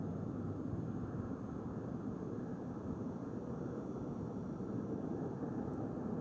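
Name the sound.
airplane flying by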